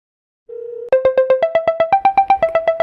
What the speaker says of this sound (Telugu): ఒకసారి శివగాడికి ఫోన్ చేద్దాం